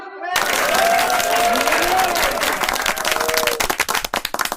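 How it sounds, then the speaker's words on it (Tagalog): A crowd bursts into loud, sustained applause with cheering voices mixed in, then the clapping thins into scattered individual claps. "Isa munang malakas sa palakpak."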